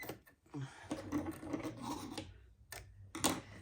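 Fabric edge of a jelly roll strip quilt being trimmed, a continuous rasping, scraping cut that runs for about two seconds, pauses, then returns in two short bursts, close and fairly quiet.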